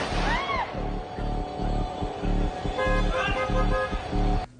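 A car horn on a Wuhan city street honks again and again at close range, with short toots and longer blasts over a steady hum of road traffic.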